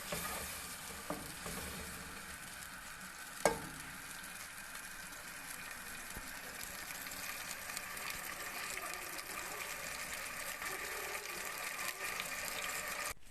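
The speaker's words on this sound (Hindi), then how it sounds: "इसे हम अच्छे से भूनेंगे ताकि ये तेल छोड़ दे अपना।" Masala sizzling and frying in oil in a pan while being stirred for kadhi pakora, a steady hiss with a single sharp clink partway through, close and continuous with no talking.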